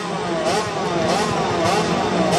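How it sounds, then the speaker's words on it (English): Racing sidecar outfits on the starting grid of a Red Lodge race hold their engines at high revs, a loud, continuous buzzing drone with slight pulsing rises in pitch. "The outfit's building up their revs."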